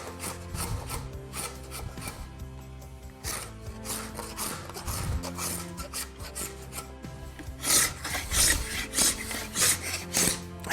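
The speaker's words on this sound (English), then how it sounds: "So what I'm gonna do is scrape the glue." Hand scraper rasping dried glue off an end grain wooden cutting board, a steady run of dense scratchy strokes, close and continuous, growing harsher and louder toward the end.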